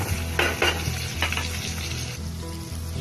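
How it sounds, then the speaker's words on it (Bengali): Onion, tomato, garlic, chili and capsicum sizzle steadily in a hot pan while being stirred, with a few scraping strokes of the spoon against the metal over the constant close frying hiss. "এবার ভালো করে নেড়ে নেব।"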